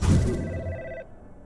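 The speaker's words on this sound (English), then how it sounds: "I remember being so on edge when this phone rang" Telephone ringing in the video game Budget Cuts, a single loud electronic ring burst that cuts off after about a second, then quiet.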